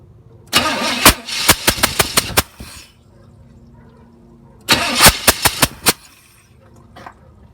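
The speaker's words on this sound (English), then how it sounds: "I'm gonna go ahead and turn it over, see if we can measure what our compression's at with this tester" A Chevelle's engine cranks over on the starter during a compression test: two loud, close bursts of rapid rhythmic cranking, each a couple of seconds long and separated by quiet, with no talk.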